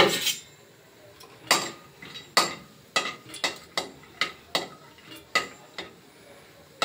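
Cashews roasting in a pan for wheat rava kesari, with a spoon stirring and scraping against the metal in repeated sharp clinks over a faint sizzle, close and fairly quiet.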